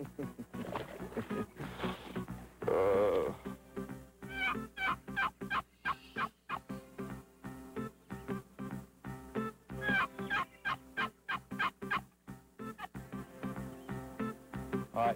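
A wild turkey gobbles near the start among crackling, clattering outdoor sounds, followed by a dense run of sharp, rapid clucks and calls from a turkey game call, loud and close.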